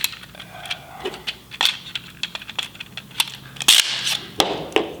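Cartridges being pressed into a SIG 320 pistol magazine with a speed loader, giving a string of quick, close metallic clicks and snaps at an uneven rhythm, with a few sharper clacks standing out.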